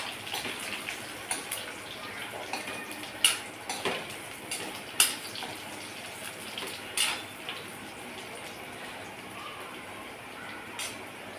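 Green chilies for Khandeshi shev bhaji sizzle softly in a pan, with a faint steady hiss broken by light clinks of a utensil stirring against the metal.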